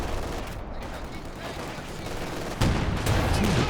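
Anti-tank overwatch gunfire in Company of Heroes 2, a muffled battle din with a heavier shot thumping in near the end under a constant noisy wash.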